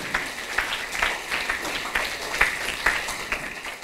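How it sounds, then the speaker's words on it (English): A design summit audience applauds a speaker's sketches with moderate, steady clapping, individual sharp claps standing out in an irregular rhythm. "Can we give her a round of applause for those wonderful sketches?"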